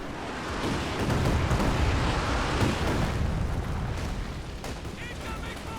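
An artillery and incendiary barrage in Company of Heroes 2 rumbles as a dense, continuous roar of blasts and crackling fire. A voice talks over it throughout.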